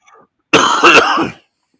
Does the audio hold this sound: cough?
yes